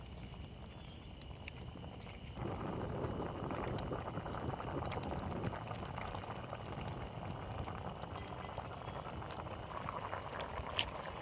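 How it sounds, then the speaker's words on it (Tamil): A pot of duck curry bubbles at a steady boil with a thick, continuous simmering hiss, while crickets chirp faintly in the background. "இதில் வாத்து நல்லா கொதிக்குது"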